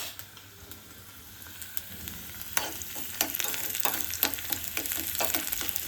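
Garlic fries in hot ghee with a steady sizzle that grows louder and busier, punctuated by sharp crackles and spits from the pan.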